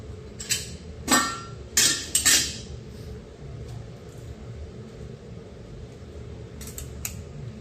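Light gauge sheet metal brackets for a greenhouse are bent on a brake, giving several sharp metallic clanks and clinks in quick succession, close by, followed by quieter handling noises.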